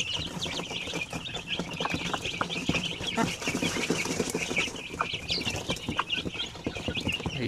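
Chickens cluck and cackle continuously in a busy flock, with scattered sharp calls and rustling, fairly close and moderately loud.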